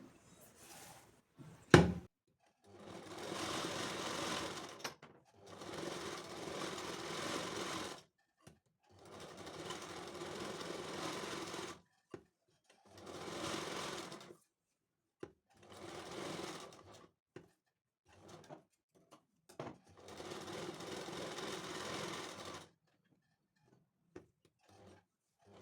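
A sewing machine stitches around the neckline of a full-sleeved blouse, running in several steady bursts of a few seconds each with short pauses between, fairly close and unaccompanied by talk.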